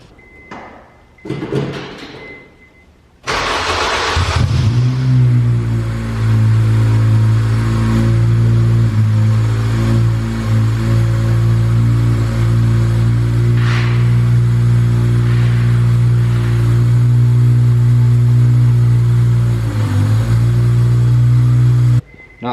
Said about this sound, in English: But I'm about to start it up and see if it goes into gear.